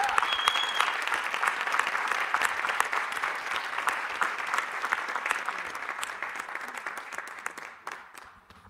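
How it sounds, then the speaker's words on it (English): A room full of people applauds Richard Bloom for his work on the federal plastic microbeads bill, with dense, steady clapping that holds for several seconds before thinning and fading out at the end. "So a round of applause for Richard Bloom."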